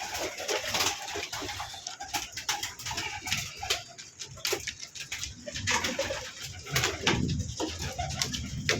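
A pair of tumbler pigeons coos among other pen birds, a low throaty murmur under busy clattering and rustling noise throughout.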